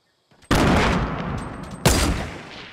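Two sharp bursts of loud gunfire crack out in Fortnite Battle Royale, each trailing into a rattling echo, with no talking.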